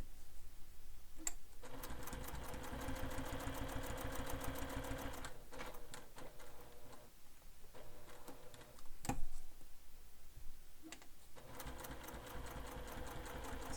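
Sewing machine stitching all the way around a leather wallet, a steady run of rapid mechanical needle strokes that pauses briefly a few times before resuming, close and alone.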